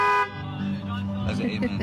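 Car horns sounding as an amen at a drive-in church service. A brief horn blast opens the moment, then gives way to a voice speaking over faint background noise.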